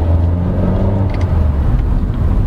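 A 2022 Honda City RS sedan accelerates in D mode, heard from inside the cabin as a steady, deep engine drone mixed with road and tire rumble, with no voices.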